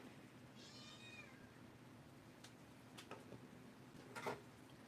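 A cat meows once, faint and somewhat distant, over a steady low background hum in a home during a livestream, followed later by a few soft clicks and a brief noisy rustle.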